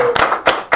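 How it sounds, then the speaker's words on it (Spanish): A few separate hand claps at an evening of Venezuelan llanero copla music, three sharp bursts spaced evenly over under a second, close and fairly loud. "Un aplauso."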